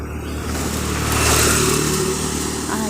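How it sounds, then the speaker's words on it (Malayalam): A small motor scooter rides past on a town street, its steady engine hum swelling to a peak midway and then easing off, with traffic noise around it. "എൻ്റെ കൂട്ടുകാരി അതാ സ്കൂട്ടിയിൽ പോകുന്നു"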